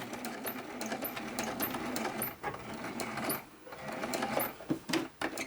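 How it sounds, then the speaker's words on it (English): Sewing machine stitching and backstitching a fabric bin made from two fat quarters, a quick, steady mechanical whirring with rapid needle ticks, stopping briefly midway and then resuming, fairly quiet and close. "I'm gonna sew over where I started with a couple of stitches. And then backstitch."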